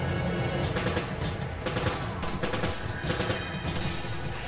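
A submachine gun in a Resident Evil game fires rapid repeated bursts, loud and close, with the volleys rattling on almost without pause and no talking over them.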